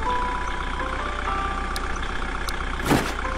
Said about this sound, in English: That car sounds like it's about to break the fuck down.